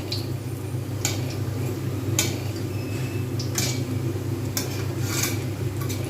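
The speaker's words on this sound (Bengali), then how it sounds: "এবার এই দুটো সেম প্রসেসে আমি কিন্তু ভেজে নিচ্ছি" Pumpkin flower fritters coated in cornflour batter frying in hot oil, a steady low sizzle running throughout with a few light clinks of a utensil against the pan.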